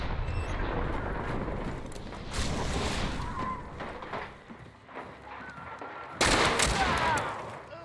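Gunfire and a grenade blast in the Hunt: Showdown video game, with bursts of shots and a rumbling explosion, plus a sharp loud crack near the end.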